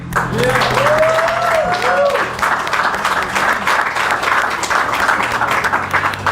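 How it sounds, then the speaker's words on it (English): An outdoor crowd at a summer unity picnic gives a warm round of applause for election candidates, a steady wash of many hands clapping throughout, with a few voices and whoops rising briefly near the start. "we want to give a warm round of applause and thank you for all the candidates that ran"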